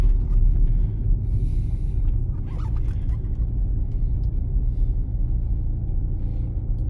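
A car moves along a road on a driving exam route near Sofiivska Borshchahivka, giving a steady low engine and tyre rumble heard from inside, continuous and fairly loud with no speech.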